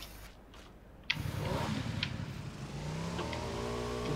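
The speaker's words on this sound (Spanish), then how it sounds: "es una moto con sidecar, tío" A motorcycle with sidecar in PUBG starting up and revving, a rising mid-pitched engine drone that holds steady and close, with no voices.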